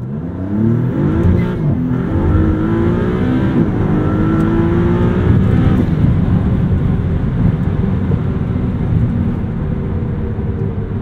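A 2023 Maserati MC20 in sport mode accelerates hard through the gears on a canyon road, its engine roaring loud and close with rising pitch between shifts, heard from inside the cabin.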